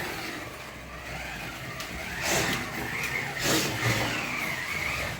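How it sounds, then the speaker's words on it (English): A Fly slot car circles its track with a continuous high electric motor whine that rises and falls as it speeds up and slows through the corners, heard close and alone. "let's have a little listen to this car running around now"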